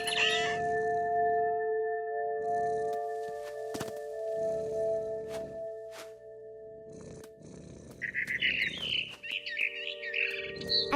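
Birds chirp and tweet in What Remains of Edith Finch, a high, clustered burst of twittering near the end over a steady ambient game drone, with scattered clicks earlier.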